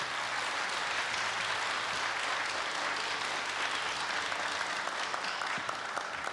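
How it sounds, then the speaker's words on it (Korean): Loud, sustained applause from a ceremony audience at Korea University's 118th anniversary celebration, welcoming the university president, a dense, even roar of clapping hands that holds steady throughout. "힘찬 박수로 맞이해 주십시오."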